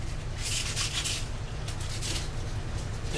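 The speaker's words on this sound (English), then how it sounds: "between layers of fiberglass, we usually will knock off the burrs with a light sanding" Light hand sanding of fiberglass on a wooden surfboard, a soft, steady scratchy rubbing with a few brighter strokes, close and quiet over a constant low hum.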